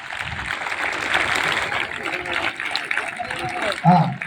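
Students at a high school gathering clapping for their teacher, a busy spread of applause mixed with crowd noise and voices throughout.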